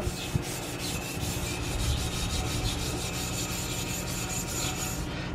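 Abrasive scuffing of metal exhaust headers by hand before ceramic coating, a continuous rough rasping rub with rhythmic strokes, close and steady, no talking.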